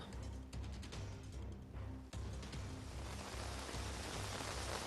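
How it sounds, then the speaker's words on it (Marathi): Steady rain falls in Mumbai as a continuous soft hiss, with a low rumbling hum of thunder underneath and no voices. "विजेचा गडगडाटासह सकाळपासून पाऊस पडतोय"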